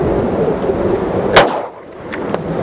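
A single close, sharp shot from a Glock 48 pistol firing a RIP round, a loud crack over outdoor background noise, followed by a couple of faint ticks.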